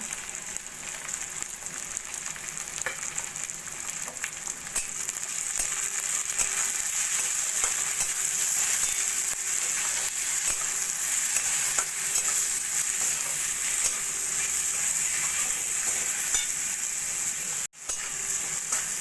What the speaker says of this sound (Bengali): মশলাগুলো টমেটো আর পেঁয়াজের সঙ্গে ভালো করে মিশিয়ে নিয়ে